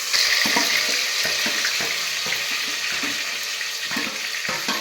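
Masala frying in hot oil for a traditional khengat, made by a grandmother: a steady, close sizzle and hiss with faint stirring clicks, no talking.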